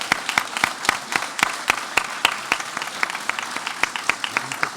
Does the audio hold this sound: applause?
yes